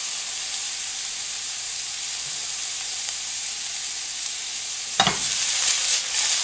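Onions frying in fat in a skillet give a steady, even sizzle that runs throughout, with a brief louder burst near the end as they are tossed around the pan.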